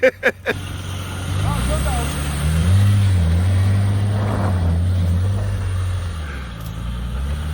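Engine of a 1991 Ford Ranger truck during snow wheeling, a steady low rumble that swells and holds for several seconds after a few sharp knocks at the start, close by.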